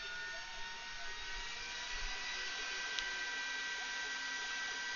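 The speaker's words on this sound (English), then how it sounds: "And you may hear some fans because the exhaust starts." The exhaust fans of a laser cutter run as it starts a fabric appliqué job, giving a steady, even whooshing hum with a faint low thump near the middle.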